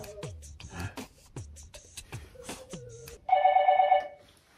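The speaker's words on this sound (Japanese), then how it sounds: "電話。" A telephone rings once with a bright electronic tone lasting under a second, following a series of scattered knocks and clicks.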